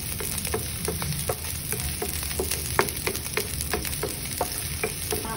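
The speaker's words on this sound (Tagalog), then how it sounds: "And then, saute the garlic," Garlic and onions sautéing in a pan, a steady bright sizzle with frequent small clicks and taps of stirring throughout, close up and without talking.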